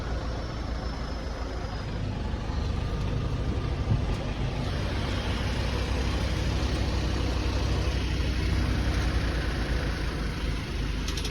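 A truck engine idles outside a company gate, a constant low rumble with a busy mid-range drone that holds steady and moderately loud throughout.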